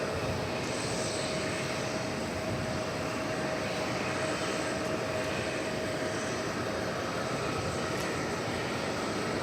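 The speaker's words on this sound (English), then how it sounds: "This is the 757 we saw coming in from Fort Lauderdale" A Boeing 757 airliner at DFW airport, arrived from Fort Lauderdale, gives off a steady broadband engine roar with a faint high whine, continuous and moderately distant for the whole stretch.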